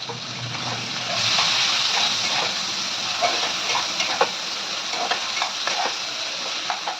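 Vegetables with turmeric and salt fry in a pan, giving a steady close hiss of sizzling oil with scattered light pops and a few soft stirring clicks.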